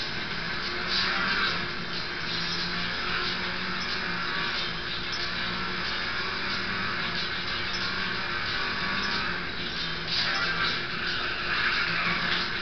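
A car in the Paris checkpoint race of the Midtown Madness 3 video game skids hard, with loud, steady tire squeal and engine roar running almost the whole time, swelling again near the end.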